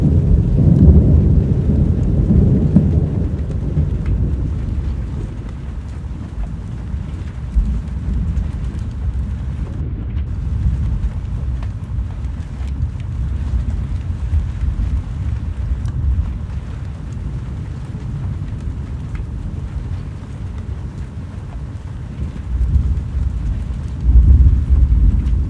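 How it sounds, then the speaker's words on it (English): Hail and a thunderstorm in the Roblox game Twisted, a loud continuous low rumble and roar of wind, rain and thunder, swelling again near the end, with no talking. "we're in the hail core now"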